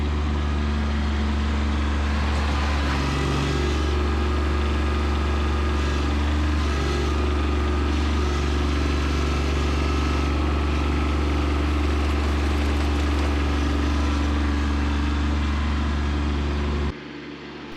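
A Kubota B2601 compact tractor engine runs steadily at a constant loud drone during garden work, holding an even idle-like rumble before cutting off abruptly near the end.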